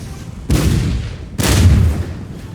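Two heavy booms of cannon fire from a naval or land battle in Empire: Total War, each a sudden loud blast followed by a rumbling decay, about a second apart with no talking.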